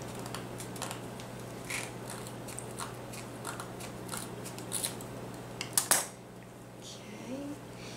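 Scissors cutting nautical rope, a series of faint snips and crunching clicks close by over a low steady hum, with a sharper cluster of cuts near the end.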